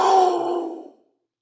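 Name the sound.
voice imitating a jaguar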